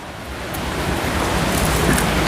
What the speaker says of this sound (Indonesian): Hujan guys, jadi kalau bising mohon maaf ya